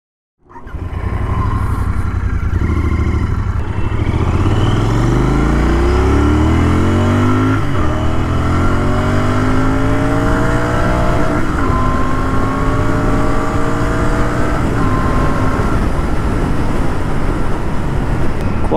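A Royal Enfield Continental GT 650 twin-cylinder 650cc motorcycle engine roars loudly as the rider accelerates through the gears, the pitch climbing and dropping with each shift, with steady wind noise throughout.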